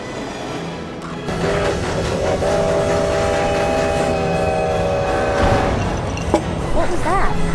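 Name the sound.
train running on rails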